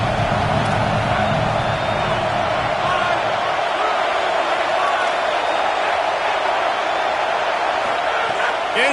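Stadium crowd at a Texas college football game roars continuously as a steady, dense wall of cheering and noise, with a commentator talking over it.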